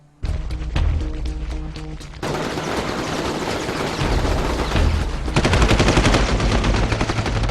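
Heavy machine gun fire in an Infamous video game cinematic as a gate opens onto a wall of razor-wire gun emplacements: sustained rapid bursts grow denser and louder, with no talking.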